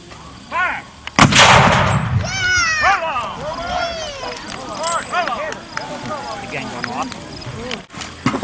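A Civil War reenactment cannon fires one loud, sharp boom that rolls into a long rumbling echo, followed by voices talking and horse-like calls in the open field.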